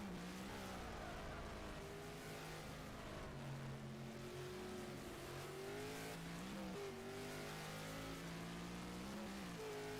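A 1972 Formula 5000 race car cornering at Silverstone, its engine droning steadily with shifting pitch as it brakes and accelerates through the bends, heard continuously at a moderate distance.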